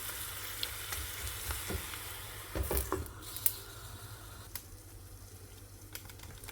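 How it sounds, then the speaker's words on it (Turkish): Butter melts in a small pan with a soft, steady sizzle and light crackle, quiet and close, with a few sharper pops and brief clatters partway through. "Şöyle yağım da burada erisin"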